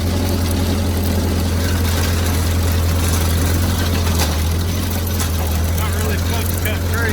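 An old tractor pulling a sickle mower runs steadily in first gear, giving a constant, loud, low engine drone with mechanical clatter on top. A voice talks over it.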